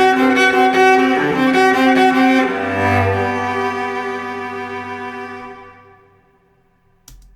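Closing section of a stock music track plays back with layered instruments and a low bass swell, then a long ringing fade toward near silence, ending on a brief soft thump.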